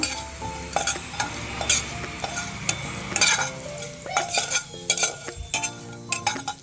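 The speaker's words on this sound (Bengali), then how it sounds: "তো দিয়ে একসাথে ভালো করে এবার নেড়ে ভেজে নেব" Whole cumin seeds fry in hot oil in a pan while a utensil stirs them, with steady sizzling under repeated scraping and clinking of metal against the pan, all close up.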